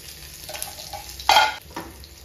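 Fennel seeds and garlic fry in hot oil, giving a close soft crackling sizzle that briefly swells into a louder burst as ingredients hit the pan or are stirred, then settles back.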